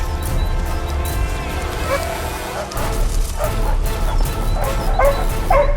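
A hunting dog that has scented a wild boar in forest among snow-felled trees barks and yips repeatedly, loud and close, in an uneven excited rhythm.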